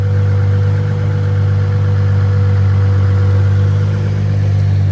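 An Acura Legend coupe project car idles steadily and smoothly with a low, even hum and faint whir, close and constant throughout with no revving or voices.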